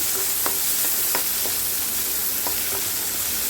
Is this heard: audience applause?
no